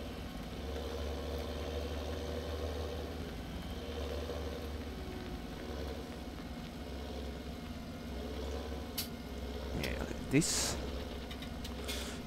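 A large tractor idles in Farming Simulator 17, a steady low engine drone that runs throughout under brief talk.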